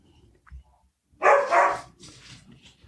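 Dogs bark in a short burst of two loud, close barks, followed by softer barking and yips that fade out. A faint sound comes just before the barks.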